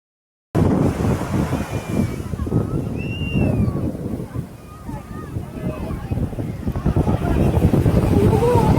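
Wind and sea waves at Kovalam beach, a steady broadband roar of surf and gusting wind buffeting the microphone, continuous and loud throughout with a few faint distant tonal sounds above it.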